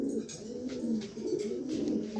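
Pigeons coo softly in repeated throaty phrases, close by and alone, with no voices in between.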